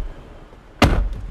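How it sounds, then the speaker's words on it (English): A single sharp thud of a door being shut partway through, loud and close, after a quiet room background. "Shut the door."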